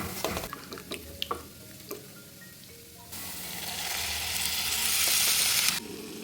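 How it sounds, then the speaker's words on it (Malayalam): Squeezed tamarind water poured into a hot pan of sautéed bitter gourd and roasted chili: a few stirring clinks, then a loud, rising hiss of liquid hitting the pan that holds for a few seconds before cutting off. "ഇനി ഇതിലേക്ക് പുളി പിഴിഞ്ഞ് ഒഴിച്ചു കൊടുക്കാം"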